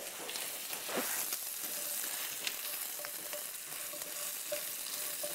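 Button mushrooms sizzle and fry steadily in a hot pan over medium-high flame, a dense continuous crackle with occasional stirring, close and fairly loud with no talk.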